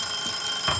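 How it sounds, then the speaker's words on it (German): An alarm clock rings in a kitchen during a day of Christmas baking of cinnamon star cookies. It is a short, bright ring that rises briefly over steady background noise. "jetzt bimmelt auch dein Wecker"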